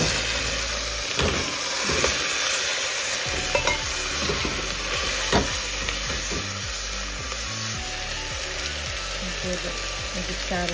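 Local chicken meat frying with spices in a pan, a steady close sizzle with scraping stirs throughout, and a faint voice now and then beneath.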